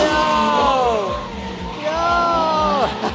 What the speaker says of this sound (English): Wait for these cars to come around the corner screaming,